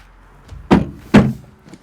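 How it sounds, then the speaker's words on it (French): Door of a Ferrari Monza with its 810 hp V12, giving two loud close thunks about half a second apart, with quiet handling noise around them. "comment tu ouvres la porte? Dans la petite lanière"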